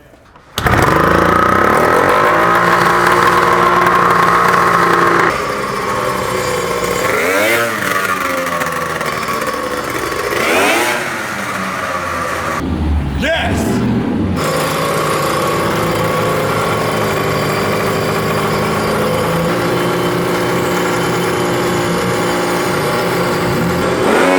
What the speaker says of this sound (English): He's about to go full throttle right now.